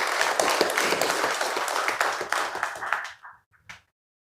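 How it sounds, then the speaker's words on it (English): An audience at an emancipation cultural lecture gives a round of applause, dense clapping that holds for about three seconds and then thins to a few scattered final claps before silence. "Give yourselves a round of applause."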